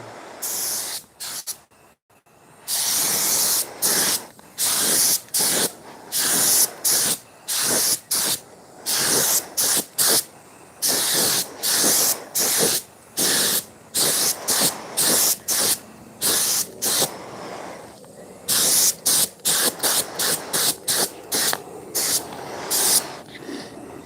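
Bursts of aerosol-like spraying as Cerakote coating is applied to a BMW E36 M3 intake, a long series of short hissing sprays in quick rhythm with brief gaps, close and loud, no talking.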